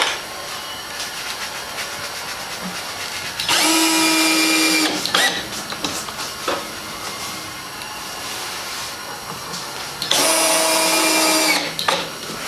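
Two loud bursts of a power drill driving screws into wood for about a second or two each, separated by quieter handling clatter and knocks.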